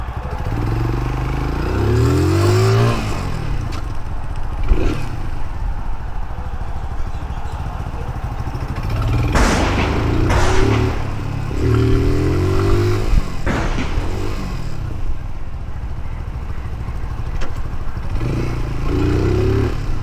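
A Tycorun Scrambler motorcycle revs up through its gears while being ridden, the engine note rising and falling in repeated surges with occasional rattling clatter, loud and close with no talk.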